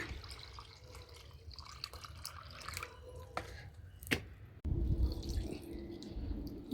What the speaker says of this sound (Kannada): ಇಂತಹ ನೀರನ್ನ ನಾನು ಆ ಗಿಡಗಳಿಗೆ ಗೊಬ್ಬರ ಆಗಿ ಕೊಡ್ತೇನೆ ಹೀಗೆ ಸೋದಿಸ್ಕೊಳ್ತೇನೆ